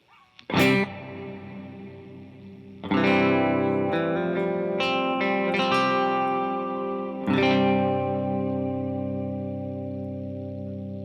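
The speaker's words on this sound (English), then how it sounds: "So let's use a hall reverb to set up a more ambient sound." Electric guitar chords ring out with a wide, spacious hall reverb, each strum followed by a long lingering wash that fades slowly.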